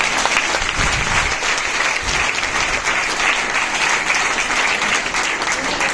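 A crowd applauds steadily throughout at a Mother's Day water campaign event, dense clapping at an even, loud level with a few voices mixed in.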